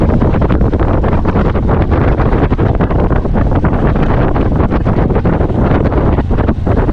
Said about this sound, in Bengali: এই প্রথম রানওয়েতে এখন আমি বাইক চালাচ্ছি